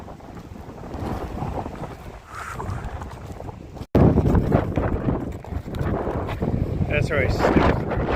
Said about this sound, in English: man, this wind is something else